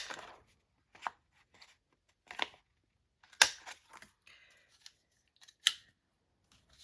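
A corner rounder punch clips the corners of photos, a handful of sharp, separate clacks and crunches spaced a second or so apart, close and clean in a quiet room.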